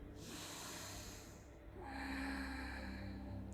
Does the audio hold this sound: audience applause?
no